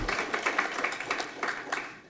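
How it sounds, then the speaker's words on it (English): An audience at a cancer summit claps together, a soft, somewhat distant patter of many hands that holds steady before fading out. "let's clap for that"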